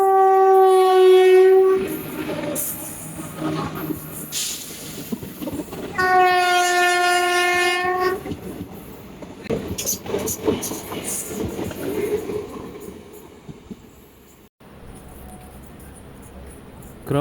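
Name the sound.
express train passing with horn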